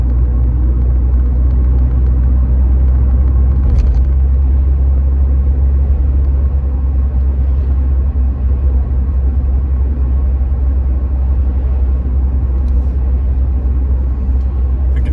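A 1991 Mercedes-Benz 190E 2.0 E on a test drive gives a steady, loud low engine and road rumble heard from inside the car, unbroken for the whole stretch with no talking.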